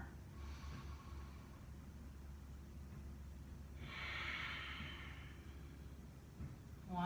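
Slow, controlled breathing during a belly-contraction breathing exercise: quiet, with one long, breathy exhale swelling up in the middle over a low background hum.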